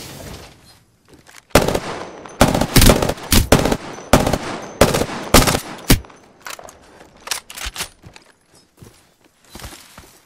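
Gunfire in Apex Legends, a shooter game, on select fire: loud, close bursts of rapid shots repeat over several seconds with short pauses between them.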